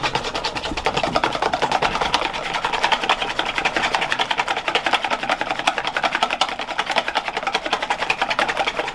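An electric whisk whips separated eggs for Japanese-style fluffy pancake batter with a continuous, rapid, buzzing whir that holds steady and loud throughout, close by, with no talking.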